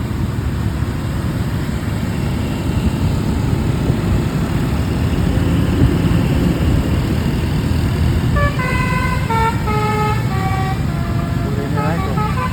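Tunggal Jaya bus on the road at Anyer–Cilegon sounding its telolet basuri musical horn, a loud melodic run of stepped tones over heavy road and engine rumble, with voices in the background.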